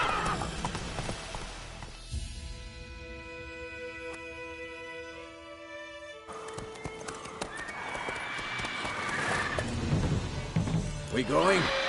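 Roach, the horse in The Witcher 3, whinnies and clops along with hooves, mixed with game music tones and a character's voice speaking over the hoofbeats.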